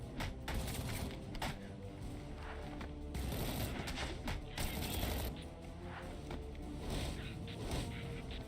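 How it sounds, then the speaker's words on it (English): Gunfire in a video game rattles in dense, continuous bursts like rapid automatic weapons, steady and moderately loud throughout with no pauses. "keep dodging around the gunfire"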